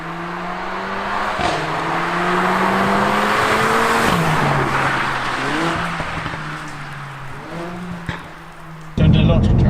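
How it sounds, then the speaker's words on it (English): A Mercedes A45 AMG 2-litre engine revs and pulls hard from inside the car, its pitch climbing and dropping through gear changes, with sharp exhaust pops and people talking over it. "It does make a good noise. And it's only only a 2-litre engine."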